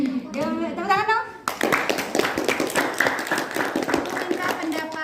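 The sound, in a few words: group clapping hands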